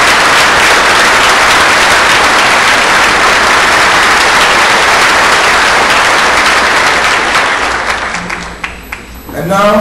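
Loud, dense audience applause at an investment forum for a president, sustained clapping that tapers off near the end as a voice begins.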